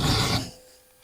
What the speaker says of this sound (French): Donc il ne vous restera plus qu'à la lime ronde à venir corriger ça.